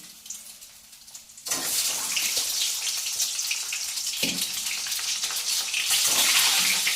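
An egg fries in a pan: a steady, bright hiss starts suddenly and continues loudly, with sizzling crackle throughout. No voices are heard.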